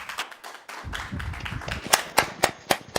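An audience at a poetry recital claps for a poet. The clapping starts sparse, then turns into a burst of close, sharp claps that thin out into a few louder separate claps.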